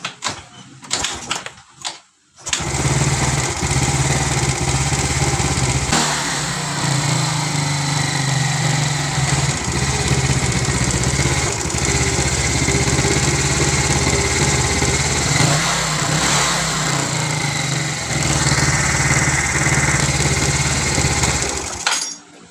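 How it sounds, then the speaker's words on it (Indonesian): A carbureted Yamaha Mio scooter engine with a destroyed camshaft and damaged rocker arm starts after a few sputters, then runs steadily and loudly with a rapid, typewriter-like ticking clatter. "Sebelum saya bongkar, ini mau saya coba dulu teman-teman ya, suara mesinnya itu seperti apa"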